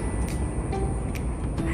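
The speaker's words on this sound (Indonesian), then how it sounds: "Itu suara mobil, suara kendaraan yang lewat di jembatan itu rame banget." Dense road traffic of cars and vehicles crossing a bridge forms a continuous loud rumble and hiss, steady throughout with no breaks, in hot summer weather.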